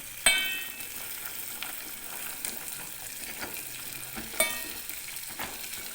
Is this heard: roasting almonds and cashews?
yes